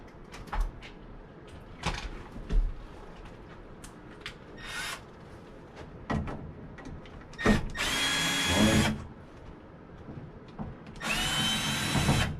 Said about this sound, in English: Drill driver. Yeah. This is the fastest way over here.